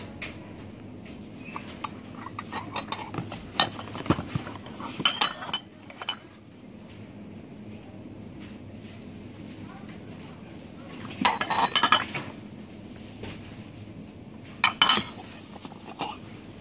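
Pieces from an A101 breakfast set of bowls and plates, including smoky grey ones, clink and knock as they are handled nearby, in scattered bursts with quiet gaps between them.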